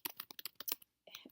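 Rapid clicking keystrokes on a computer keyboard, about a dozen quick taps in an uneven burst, a short pause, then a few more keys, close and clear with no talking.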